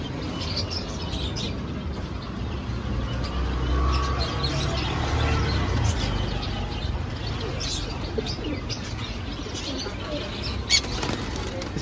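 Pigeons at a pet market flutter and flap their wings among other birds, with soft coos and chirps over a constant busy background hum throughout.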